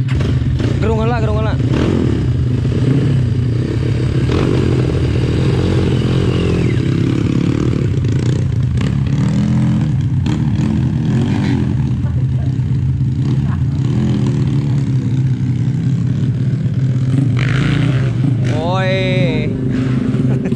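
An off-road motorcycle engine revving loudly and close, its pitch rising and falling through throttle bursts, with people talking and shouting over the engine noise.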